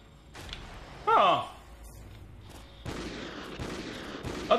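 Gunfire in the video game Call of Duty: Ghosts: a loud, sharp burst around the middle with a ringing tail, then quieter shots and action noise amid a busy game soundscape.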